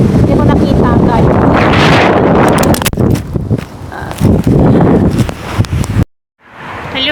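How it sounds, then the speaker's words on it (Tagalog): Strong wind buffets a phone microphone outdoors near a park stairway, a loud continuous roaring rumble with gusts for about six seconds, then a brief cutoff and a quieter return; a voice speaks under the noise. "ang lakas ho ng hangin"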